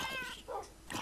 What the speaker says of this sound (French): Mais il y a un chat, normalement il devrait pas venir là.